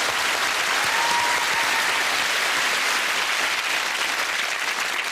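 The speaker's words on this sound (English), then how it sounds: "I think they deserve a round of applause from us." A studio audience applauds and cheers on a comedy quiz show, a steady, full wash of clapping from a large crowd that holds for several seconds without a break.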